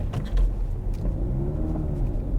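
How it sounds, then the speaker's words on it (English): A learner's car on a driving test in horrible weather rumbles with a low, uneven engine note, hesitating briefly during a gear change before settling, close and steady. "He's just had a slight stutter with his gears, managed to control it"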